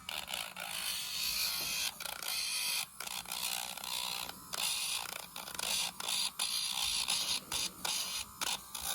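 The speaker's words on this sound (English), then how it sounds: "So now I've got the Dremel" A Dremel rotary nail grinder works on a dog's nails, giving a quiet, uneven whirring buzz broken by frequent short pauses and touches, with no talking.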